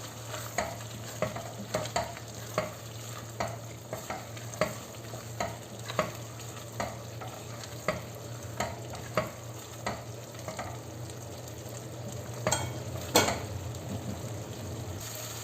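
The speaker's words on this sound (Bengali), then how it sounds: "এর মধ্যে আমি এখন আগে থেকে সিদ্ধ করে রাখা মাংসটা দিয়ে দিই দিয়ে ভালোভাবে কষাবো" Pre-boiled chicken sautéed with cooked-down spices in a pan, a steady frying sizzle under regular scraping stirs, about one every half second, close and fairly loud, with no talking.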